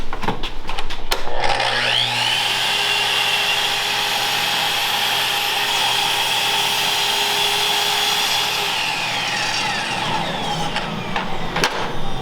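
A power saw spins up and cuts through wood held against a fence during a cabinet build, a loud, sustained whine lasting about eight seconds before spinning down, with clicks at the start and end.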